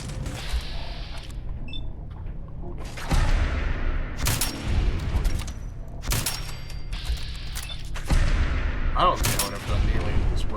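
Heavy video game gunfire from a Gauss cannon, a series of loud booming shots spaced a second or two apart over a steady low rumble.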